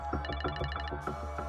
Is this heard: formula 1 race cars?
no